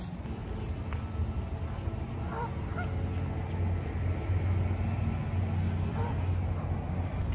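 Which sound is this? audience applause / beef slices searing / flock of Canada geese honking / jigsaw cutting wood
flock of Canada geese honking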